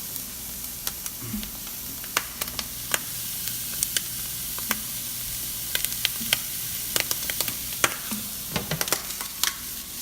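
Corn kernels searing in an extremely hot pan, a loud continuous sizzle and hiss close up, broken by frequent sharp pops and scraping stirs.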